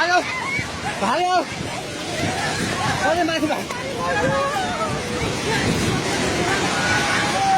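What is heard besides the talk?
flooding river rushing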